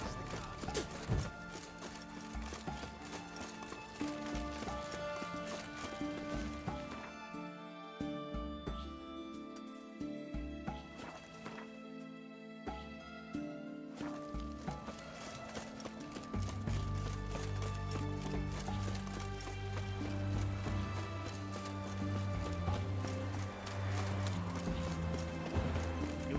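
Horse hooves clip-clop steadily in The Witcher 3 as a horse trots beside a cart, with a quieter break in the middle before heavier, denser hoofbeats and low rumbling return.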